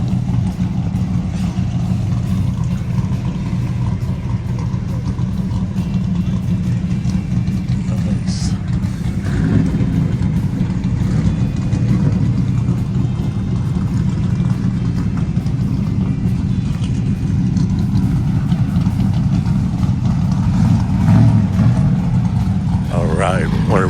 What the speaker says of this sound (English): listen to these Mopars rattle, man.